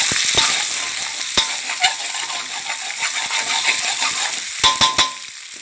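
An egg frying in a hot pan for stir-fried instant noodles with soy sauce: a continuous bright sizzle close up, broken by sharp metallic clinks of a utensil against the pan.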